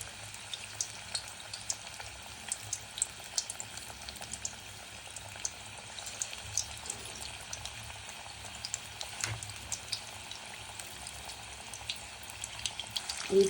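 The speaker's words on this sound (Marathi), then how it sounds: "भजे जे आहेत ते स्लो फ्लेमवर तळून घ्या" Spinach bhaji frying slowly in hot oil over a low flame, a faint, steady bubbling sizzle with soft crackles, continuous and close, with no talking.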